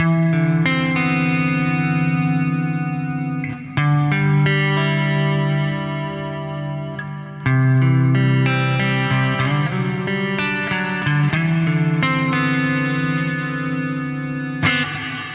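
Clean electric guitar chords bloom into a lush, wide hall reverb from a Meris Mercury X pedal's 78 Hall algorithm with a gentle wavering pitch-modulation shimmer, notes ringing and overlapping, played alone with no voices.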